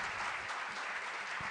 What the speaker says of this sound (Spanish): es un fuerte aplauso para nuestro queridísimo doctor Juan Octavio Ceballos.